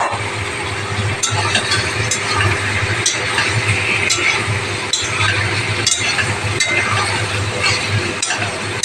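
Fried katla fish pieces dropped into a pan of sizzling spice masala, a continuous loud sizzle with recurring sharp clinks and scrapes of utensils against the pan, repeating about once per second.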